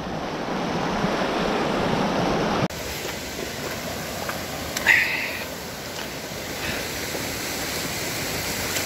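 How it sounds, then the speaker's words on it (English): Flooded creek rushing across a driveway during heavy rain, a continuous broadband roar of water that steps down partway through, with a few brief splashes. "So we have a real rain event going on right now. As you can see by this creek right here."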